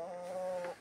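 A chicken in a flooded, muddy coop gives a single drawn-out, tonal cluck, close and moderately quiet, with no voices.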